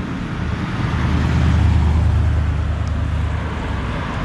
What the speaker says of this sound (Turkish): Gelen arabaya baksanıza.